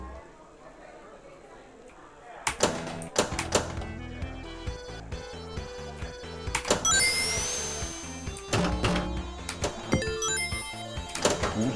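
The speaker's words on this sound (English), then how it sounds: "This is the slot machine." Slot machine in the Sonic Pinball Panic video game: chiming electronic jingles and rising tones over rapid clicking and ticking, with a steady game soundtrack underneath and a voice talking over it.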